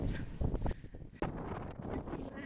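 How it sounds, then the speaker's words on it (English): Strong wind buffets the microphone on an exposed hilltop above woodland, gusty low rumbling bursts with a sudden sharp thump midway, fairly quiet overall. "The wind became very strong at the top, without the trees protecting us."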